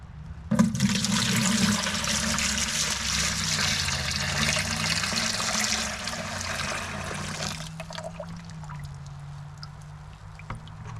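Maple sap poured from a tapped tree's bucket into another bucket, a loud continuous gushing pour that cuts off abruptly, followed by faint trickling and drips.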